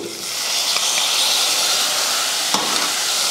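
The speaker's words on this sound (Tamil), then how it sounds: "அடுத்து இதில் தக்காளி சேர்த்துக்கலாம். 3 தக்காளி." Tomatoes sautéing with turmeric in a pan for rasam give a loud, continuous hissing sizzle heard up close, with one brief sharper stir or scrape partway through and no voices.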